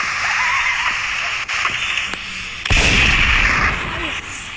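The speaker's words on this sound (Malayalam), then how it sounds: "നമ്മൾ വെടി വെച്ചിട്ടുണ്ട്. ഷോർട്ട് കൺ ലോഡ് ചെയ്തിട്ട് നോക്കിയതാണ്" Heavy shotgun fire booms in Mr. Meat, with a sharp blast midway followed by a rumbling burst, over constant loud background noise.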